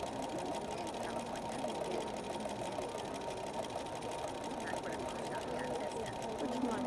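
A Vanilla Activa 240 sewing machine stitches thread drawing in a steady, fast, continuous mechanical whir with even rhythmic ticking, heard close and quiet throughout.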